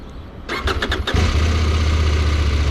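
A CFMOTO 800MT Explore motorcycle engine cranks with a few quick starter bursts, catches and settles into a steady, close, loud idle rumble, with no talking.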